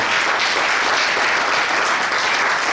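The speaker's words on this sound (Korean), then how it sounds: "여러분 인사드릴 때 큰 박수 한번 부탁드리겠습니다" Dense, loud applause from a church assembly audience fills the hall evenly at a celebration for newly elected general assembly delegates and presbytery officers, a continuous wash of many hands with no voices on top.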